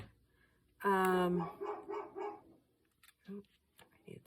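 A dog lets out a loud close bark followed by a few shorter yips and whimpery barks, with brief quieter sounds after.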